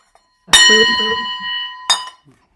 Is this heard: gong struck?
yes